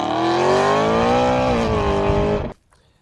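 Loud, close exhaust roar from a BMW E92 M3 that holds a steady revving pitch, climbs slightly, then cuts off abruptly into near silence.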